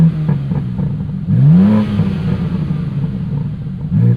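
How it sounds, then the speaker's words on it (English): A warmed-up 2026 BMW M2 CS (G87, 523 hp) exhaust in M1 mode gives two throttle blips over a steady idle rumble: a rising, swelling rev early on, then a shorter blip at the end, close and fairly loud. "So you guys can hear the exhaust. We're almost all the way warmed up, so we'll give it a couple blips here."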